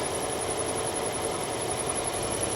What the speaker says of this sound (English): A little bit of a squeak coming from one of the pulleys right there.